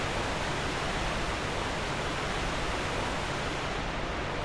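Loud, steady rush of a big waterfall in the Dark Souls II video game, a dense unbroken roar heard up close with no pauses and no voices.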